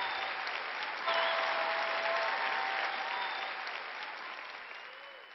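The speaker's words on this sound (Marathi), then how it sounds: "यापेक्षा जोराने टाळ्या वाजवा," Applause from a church audience at a sermon, a loud, dense wash of many hands clapping together that swells and holds, then slowly tapers.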